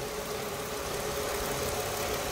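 A car with a type 112 engine idling, heard as a steady, dense, loud mechanical drone with a faint rough knock running through it, close to the engine and alone for the whole stretch.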